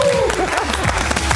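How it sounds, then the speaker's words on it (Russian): Applause from an audience at a Music Theatre vs Drama Theatre contest show, greeting the introduction of the DJ; a brief, steady burst of clapping with crowd noise, slightly blurred by a trailing voice at the start. "ваши аплодисменты!"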